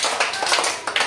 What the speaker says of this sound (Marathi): तुमच्या सगळ्यांसाठी जोरात टाळ्या घ्या बरं.